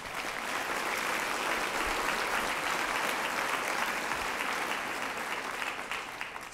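An audience at a university lecture event claps steadily and fairly loudly for several seconds, a dense, even applause with no voices on top.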